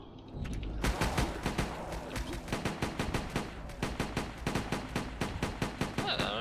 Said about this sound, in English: I really like this kind of gun where you can just fire them and then just kill them all.